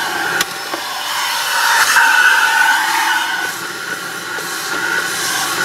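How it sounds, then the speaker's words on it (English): A vacuum sucks gunk out of a barn-find 2000 Honda Insight, a steady loud hissing whine that holds at an even level from start to end, with no voices. "Okay, well we're gonna vacuum that out."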